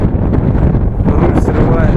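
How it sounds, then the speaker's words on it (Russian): Strong wind buffets the microphone in a continuous loud roar with gusty surges, out on an open road in Gansu, China, where a touring cyclist struggles against it. "Ужасный просто ветер"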